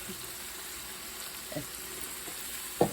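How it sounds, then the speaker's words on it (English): Sicilian bolognese sauce with tomato paste simmering in a pot, a soft steady sizzle and bubbling close by with a few brief louder pops and stirring clinks, no talking. "So this is gonna simmer for a minute, but now because I got the tomato paste mixed"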